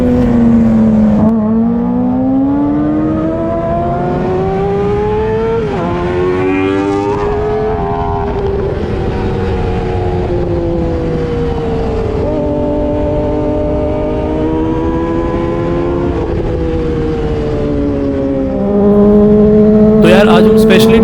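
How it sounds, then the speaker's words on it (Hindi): A supermoto motorcycle exhaust drones steadily while the bike is ridden through a tunnel, with shifting engine tones as the rider rolls the throttle on and off and a louder surge near the end. "जो टनल में आवाज़ आती है ना एग्जॉस्ट की, उससे बेस्ट कुछ नहीं है यार"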